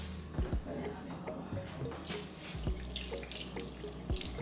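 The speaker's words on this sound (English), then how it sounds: "You wash it very well, then you put it in your oil." Momoni, a fermented fish, being washed in water while cooking a Ghanaian dish: splashing and running water with occasional soft knocks, heard under someone talking.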